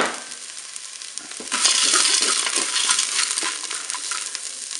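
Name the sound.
100 g of farfalle pasta added to the Cookeo pot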